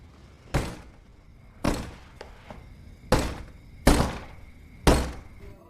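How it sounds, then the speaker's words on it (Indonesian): Five heavy, widely spaced knocks strike a bedroom window at night, each a loud dull thud with a short tail, separated by quiet pauses. "Medi mendengar suara ketukan dari jendela kamarnya"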